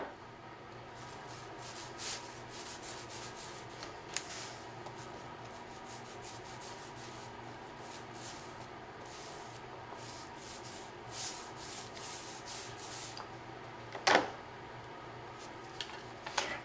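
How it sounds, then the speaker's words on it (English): Paint roller spreading glue over a book cover: a soft, steady rolling and rubbing texture, quiet and close, with a couple of small clicks and no talking. "charge my paint roller, and I'm going to apply an even coating of glue"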